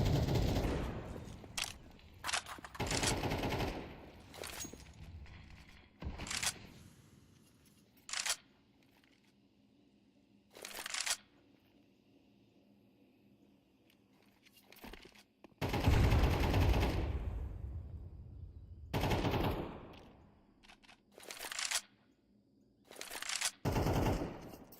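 Bursts of AK rifle fire in an esports match of a first-person shooter, loud rapid volleys broken by quiet gaps and repeating across the whole stretch.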